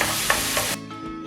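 Gnocchi being stirred with soy sauce in a hot frying pan give a loud, close sizzle with a few scraping stirs. The sizzle drops off sharply partway through and leaves a quieter hiss.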